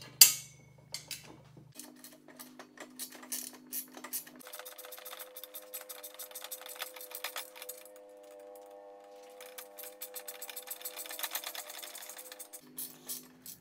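Quick rhythmic clicking of a socket ratchet tightening bolts while assembling an Evolution Rage 5S table saw, close and fairly quiet, in bursts of rapid ticks with short pauses.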